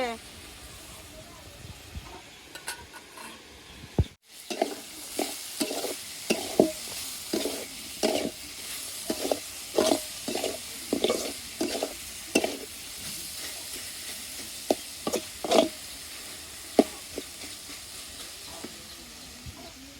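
Pointed gourd (potol) fries in a pan on a clay stove with a constant sizzle, while a spatula scrapes and stirs in a regular rhythm of strokes up close. A voice speaks faintly underneath.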